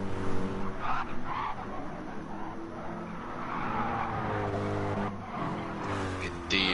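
A GT3 race car in a sim racing game, shown around a Jaguar F-Type, roars steadily with engine harmonics and tire squeal through corners, a continuous loud drone with pitch shifts as it is pushed hard.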